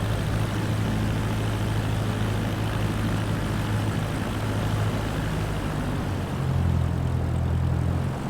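A propeller airplane engine in Microsoft Flight Simulator 2024 drones steadily and loudly throughout, with a low rhythmic prop hum that shifts slightly in pitch near the end.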